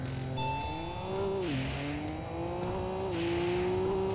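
A racing game car's engine revs hard while accelerating, its pitch climbing, dipping on a gear change, then rising again, loud and continuous with no talk.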